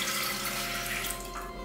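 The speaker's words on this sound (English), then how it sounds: "First thing you want to do is get a cup of water" Tap water runs steadily into a cup at a kitchen sink, measured out for cooking quick oats. It is a continuous, close, even splashing stream with no talking.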